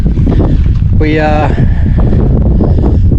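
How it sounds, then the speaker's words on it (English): Strong wind buffets the microphone outdoors on a fishing boat, giving a loud, constant low rumble. A person speaks briefly over it. "it gets a bit windy out here I suppose"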